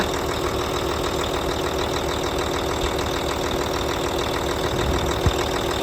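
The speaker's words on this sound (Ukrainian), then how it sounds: "Мотор працює рівно." A car engine idling steadily up close, an even, continuous rumble with a faint rhythmic knock and no voices.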